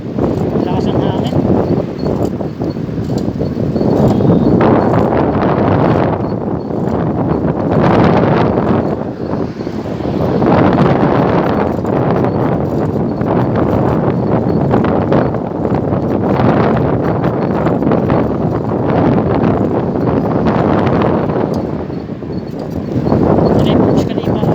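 Strong wind buffets the microphone during a bike ride through Dubai, from Al Quoz to Business Bay, a loud continuous roar that surges and eases in gusts throughout.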